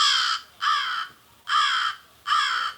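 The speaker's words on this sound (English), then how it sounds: "This is the sound of the common crow." Four loud, harsh common crow caws at a steady pace, each about half a second long, close and clear with quiet gaps between them.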